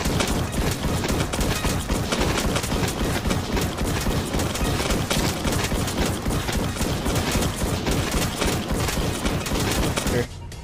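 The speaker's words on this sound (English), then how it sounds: "let's get the heavy sniper out here" Rapid gunfire from a heavy sniper rifle in the Roblox game Too Many Weapons Simulator, dense repeated shots running almost continuously for about ten seconds, loud and busy, with speech mixed faintly underneath.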